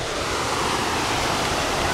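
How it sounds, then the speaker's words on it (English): Ocean waves break on a Hawaii shore in a continuous, loud wash of surf and rushing water, with no voices over it. "And the waves come a bit earlier, like in the shallow bits."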